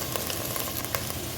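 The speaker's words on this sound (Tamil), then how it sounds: "வெங்காயம் வதங்கட்டும்." Sliced onions fry in oil for a fish head curry, giving a steady, close sizzle with small crackling pops throughout and no voices.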